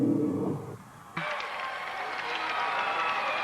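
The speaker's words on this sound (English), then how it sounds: "The applause, they knew she stuck it that time." After a moment of quieter sound, applause and cheering break out from the crowd at a 2000 Big Ten women's gymnastics championship floor routine, a sustained mass of clapping in a large arena, with a commentator's voice partly over it.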